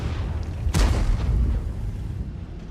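A tank's main gun firing in World of Tanks, a single heavy boom close by, followed by a rumbling decay that fades out over about two seconds.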